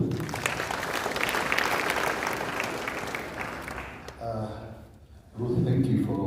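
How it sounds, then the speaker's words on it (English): Mourners at a memorial gathering applaud steadily for about four seconds, a dense clapping crowd that fades into a brief pause before voices rise again. "A louder clap for Auntie Ruth."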